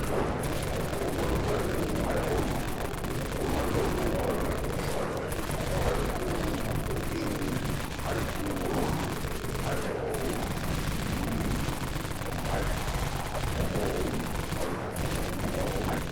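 Continuous dense machine gun fire in the video game Dead Frontier in the Deep Wastelands, a steady rapid stream of shots with only brief pauses, loud and close throughout.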